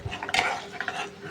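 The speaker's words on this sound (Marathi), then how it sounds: "आणि छान फिरवून शिजवून घ्यायचं." Spinach and cashew paste being stirred in oil in a pan, giving close, quick scraping and clinking of a spoon against the pan with a faint sizzle underneath, in a short uneven burst.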